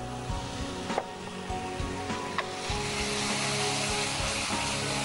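Spices frying in ghee in a pan, a soft, steady sizzle with a few light knocks and scrapes, faint and close with no voices.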